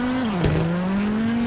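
Rally car in the WRC 7 video game sliding under the handbrake, a loud steady engine drone that dips and recovers in pitch, with a short burst of tire skid noise partway through.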